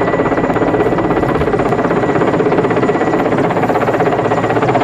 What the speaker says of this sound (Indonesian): Lihat, ada helikopter besar lagi.